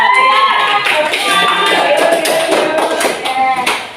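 Tenth-grade electronics engineering class of students applauding together in a classroom, a dense burst of many hands clapping close and loud, with some voices mixed in and the applause fading at the end.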